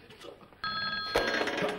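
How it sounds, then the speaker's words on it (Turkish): A telephone bell bursts into loud, steady ringing about a third of the way in, close by over faint room noise, in a Turkish TV comedy sketch. "Ya Allah, telefon."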